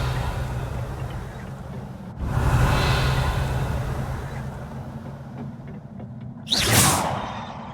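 Revelio spell cast in the Hogwarts Legacy video game, a soft rising whoosh of magic over low ambient rumble, followed by a sharper bright swish near the end.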